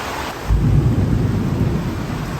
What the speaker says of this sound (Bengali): এই দেখেন খুব জোরে বৃষ্টি শুরু হয়ে গেল